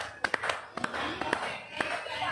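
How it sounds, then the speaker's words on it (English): A few sharp handclaps, spaced irregularly and close, mixed in with speech and chanting voices in an English-lesson setting. "Who can clap with me? I can clap with you."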